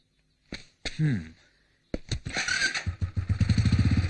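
A motorcycle engine kicks over after a few short thumps, then idles with a steady, rapid putter, close and fairly loud.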